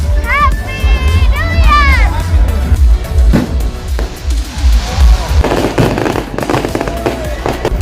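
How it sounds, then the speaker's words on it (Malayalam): New Year fireworks burst at Cherai Beach, with several whistling rockets rising and then a run of loud cracking bangs and crackles, while a crowd chatters and people speak nearby. "ന്യൂ ഇയറിന്റെ പടക്കം പൊട്ടി ഗൈസ്"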